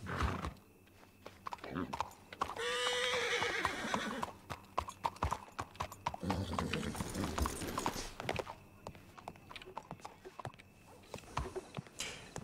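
Horse in the video game Dead West: rhythmic clip-clop of hooves with a loud neigh and snorting, clear and close, while people talk over the scene.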